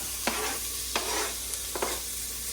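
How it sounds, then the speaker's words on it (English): Sauce simmers and sizzles in a pan, a continuous bubbling hiss broken by a few sharp scrapes of a utensil stirring. "you're gonna let that simmer for a little bit"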